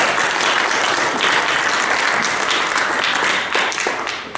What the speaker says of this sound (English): Let's give one more round of applause for the good Lord